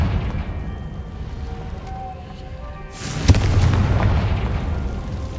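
Confringo fire spell in Hogwarts Legacy bursting in a sudden loud blast around the three-second mark, with a sharp crack followed by a sustained rumbling roar over quieter game ambience.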